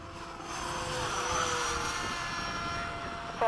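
A Freewing 80mm MiG-21 RC jet flies an afternoon flight at LFE, its steady, moderately loud whine carrying layered tonal lines that slide gently in pitch as it passes, with no voices over it.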